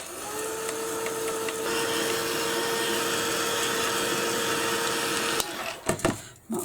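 A handheld dryer blowing to dry paint on a craft project, a constant loud whirring hum with a steady tone that cuts off near the end, followed by brief handling noises.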